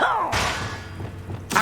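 The Depulso spell cast in the video game Hogwarts Legacy: a descending whoosh leads into a heavy thud and a rumbling impact, followed by a sharp second hit at the end.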